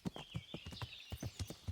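Horse hooves clip-clop at a steady walking rhythm in the medieval game Kingdom Come: Deliverance, about ten distinct thuds with a faint whinny-like tone and light ambient noise behind them.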